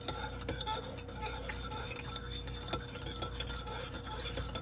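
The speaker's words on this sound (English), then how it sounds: "And then I'm just going to stir it." A spoon stirs creamer into a cup of coffee, clinking lightly and repeatedly against the mug with a quiet, steady scraping rhythm close by.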